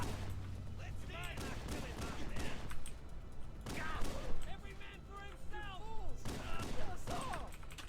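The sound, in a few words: gunfire from the video game Halo: Combat Evolved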